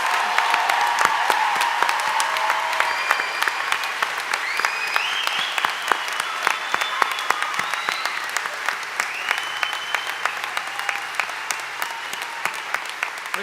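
Sustained applause from a graduate commencement audience at Mary Baldwin University fills the hall for the 2022 graduates, steady and dense throughout, with faint voices and whistle-like cheers rising over the clapping.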